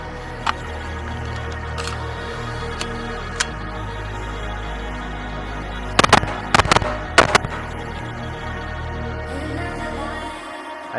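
Rifle shots crack across an outdoor shooting range, a few scattered single reports and then a quick burst of about five shots, sharp against a steady low background rumble.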